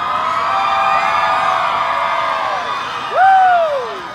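An audience at a comedy show at Santa Cruz Beach yells and cheers loudly for several seconds, and one high whoop rises above the crowd near the end.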